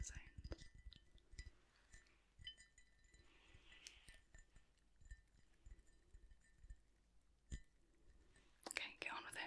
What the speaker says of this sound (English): And more nice glass tapping sounds.